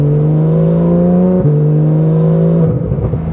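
Porsche 911 GT3 in Martini livery, its engine revving loud and close in a steady high wail, with a sharp upshift near the middle and another shift and drop in pitch toward the end.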